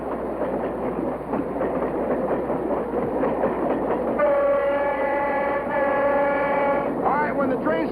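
A train runs loudly with rumbling wheels and a rhythmic clatter, and a loud horn sounds partway through, with its tones sustained to the end.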